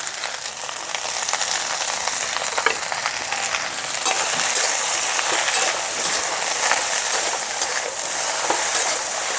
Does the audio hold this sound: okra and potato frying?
yes